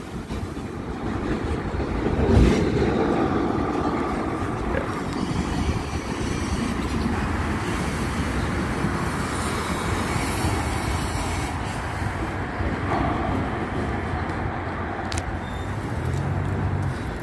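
A CN freight train pushes back slowly while shunting in a rail yard, a loud steady rumble of rolling cars with wheel clatter and a brief squeal, close by and without talk.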